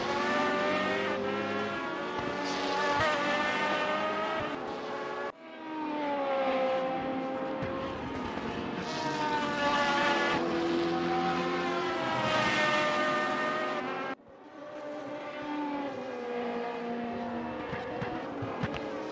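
Race car engines in the RaceRoom sim racing game, loud close revving that climbs through the gears in repeated rising sweeps, broken by sharp cuts before the engine picks up again.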